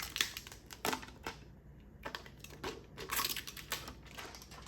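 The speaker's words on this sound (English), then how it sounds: "let me just shut up so you guys can hear the plastic" Faint, close crinkling and rustling of plastic wrap being unravelled from a Galaxy Z Fold 4 box, in irregular bursts with short pauses, no voices.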